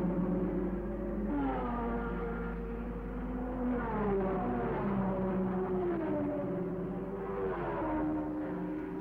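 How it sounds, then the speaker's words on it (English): Racing cars of the 1970 Monza Grand Prix scream past as a steady stream of engine howl, their pitch rising and falling as each car passes, loud and continuous with no voices. "As they came past at the end of lap 1, the order was Ickx, Rodriguez, Stewart, Regazzoni, Giunti and Oliver"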